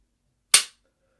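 A single sharp pistol shot rings out at a shooting range, loud and close, with a quick decay into silence.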